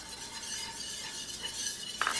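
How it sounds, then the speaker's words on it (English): Flour being whisked into melted butter in a pan for a homemade macaroni and cheese sauce, giving a steady scraping stir with a soft sizzle, close and continuous, ending in a brief clink. "I'm adding to it 3 tablespoons of flour. And I really want to whisk this in"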